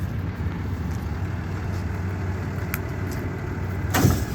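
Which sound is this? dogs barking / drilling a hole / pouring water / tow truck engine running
tow truck engine running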